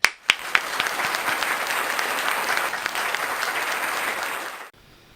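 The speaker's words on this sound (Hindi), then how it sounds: "जोरदार तालियों के साथ उनका स्वागत करें।" Audience at a televised Hindi kavi sammelan applauds to welcome a poet, opening with a few sharp individual claps before swelling into sustained dense clapping that holds steady and then cuts off abruptly.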